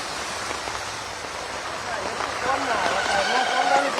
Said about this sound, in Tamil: சென்னையில் காலை முதலே நகரின் பல்வேறு பகுதிகளில் கனமழை பெய்து வரக்கூடிய நிலையில்